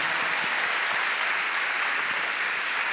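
An awards-ceremony audience breaks into applause, a thick, even wash of clapping from many people that holds steady without pause for about three seconds.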